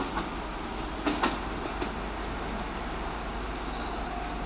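A Class 385 electric train rolls through Dunblane station, a steady rumbling roar with a few sharp wheel clicks early on and a faint high squeal, continuous and fairly close, with no talking.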